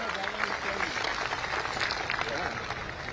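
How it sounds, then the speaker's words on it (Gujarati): A crowd at a large community gathering in Rajkot applauds as a dignitary is welcomed. The clapping is a dense, steady wash that runs throughout, with voices mixed into it. "તાળીઓથી એમને આપણે વધાવીએ."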